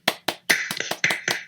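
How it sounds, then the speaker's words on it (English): A small group claps briefly in a round of applause, about eight sharp, distinct claps in an uneven rhythm, close and fairly loud with no talking. "Give him a round of applause"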